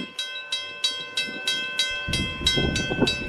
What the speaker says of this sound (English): even a fierce snowstorm in Canada couldn't stop this snow bullet train